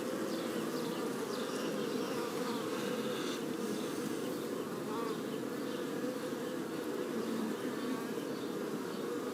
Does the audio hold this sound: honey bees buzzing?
yes